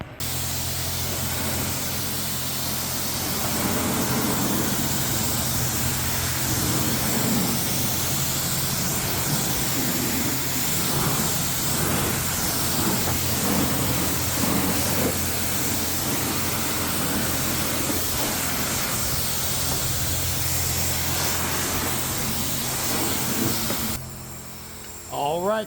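A strong continuous hiss of a water jet spraying against a 1997 Mercury Grand Marquis to rinse off salt buildup, steady and close, cutting off briefly near the end.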